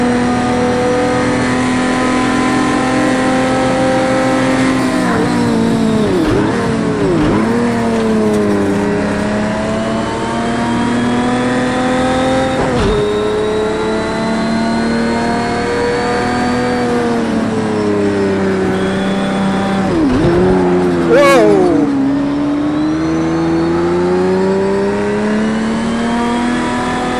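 A 1999 Lamborghini Diablo GTR races around the Bathurst circuit in a racing game, its engine droning loud and close without pause, with pitch sweeping up and down through clutch gear changes and several sharp dips where the driver shifts.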